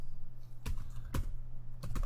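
A few sparse keystrokes on a computer keyboard, three separate clicks spaced about half a second apart, quiet and close over a faint steady electrical hum.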